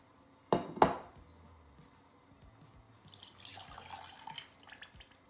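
Two sharp clinks of utensils, then a brief pause before water is poured onto sugar for jalebi syrup in a splashing, hissing stream, close by.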